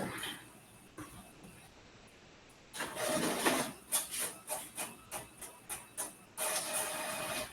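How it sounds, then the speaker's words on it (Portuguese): A printer prints a document during a meeting: a quiet lull, then the machine starts up with a whirring rise and runs through a string of regular rhythmic clunks and feeds, close and without talking. "Deixa eu só imprimir aqui."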